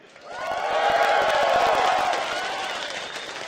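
A large esports arena crowd cheers and applauds for SK Gaming at a League of Legends event, a dense roar of clapping that swells quickly and holds steady, loud and enveloping, with no clear speech over it.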